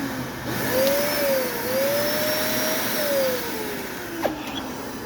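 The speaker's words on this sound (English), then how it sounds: "Next up is the Dyson DC-65." A Dyson DC65 vacuum cleaner with a clog in the wand assembly runs with a steady, loud whoosh. A whistling tone sweeps up and down over it, as if the airflow is blocked.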